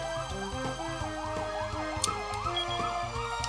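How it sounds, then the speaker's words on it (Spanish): A video-game ambulance siren wails in a fast, repeating up-and-down pattern. It is loud and close, with steady low engine-like tones underneath. "ahí pasa una ambulancia, haciendo mucho ruido"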